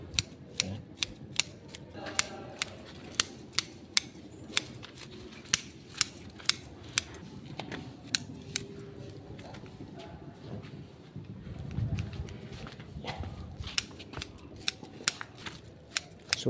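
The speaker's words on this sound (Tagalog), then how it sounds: "So gunting lang po ang ating ginamit dito" Scissors snipping bougainvillea branches in garden pots: sharp, crisp clicks repeating steadily at about one per second, close up, over faint outdoor background noise.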